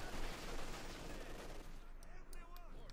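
Sustained machine gun fire in a Company of Heroes 2 battle, a dense, continuous rattle of rapid shots near and loud, with sharp separate cracks toward the end.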